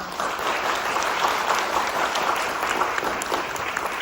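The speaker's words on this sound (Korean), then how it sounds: "다시 한번 뜨거운 박수 부탁드리겠습니다" Audience applause after a talk on building a local business ecosystem, a steady, loud wash of clapping from many hands that holds evenly throughout with no voices over it.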